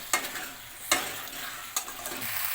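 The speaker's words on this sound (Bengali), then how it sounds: "এরপরে ডিমটাও দিয়ে দিলাম এটা দিয়ে ভালো করে কষে নেব" Potatoes and eggs stir-fried in spice paste in a pan: three distinct, loud scraping strokes of the spatula, evenly spaced, over a continuous close sizzle.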